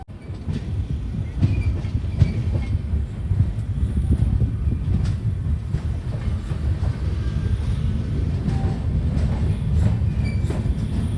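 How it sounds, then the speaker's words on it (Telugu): The Kacheguda–Mysuru SF Express with LHB coaches runs steadily, heard from on board as a continuous low rumble of wheels on track with faint rhythmic clicks and a light squeal, no talk. "మన ట్రైన్ వచ్చేసి పెనుగొండ జంక్షన్కి అయితే వచ్చింది, బయలుదేరిపోయింది."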